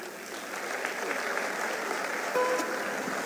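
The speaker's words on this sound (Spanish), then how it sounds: "Fuertes los aplausos, las palabras de nuestro líder nacional e internacional, hermano Evo Morales" Audience applause for Bolivian president Evo Morales after his conference speech, a steady, moderately quiet wash of many hands clapping through the whole stretch without a break.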